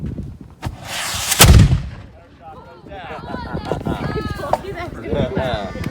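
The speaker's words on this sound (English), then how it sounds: "our priming charge exposed, our gun aimed, and our slow match nice and burning" A muzzle-loading cannon set off with a slow match gives one loud, booming blast with a rumbling tail early on, followed by people talking over the echo.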